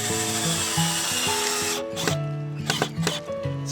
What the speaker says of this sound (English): I gotta pre-drill my holes.